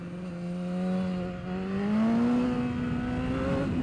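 Racing motorcycle on Bridgestone Battlax V02 tyres on a track, its engine revving steadily up to redline in third gear, a loud rising whine held close, with no talk.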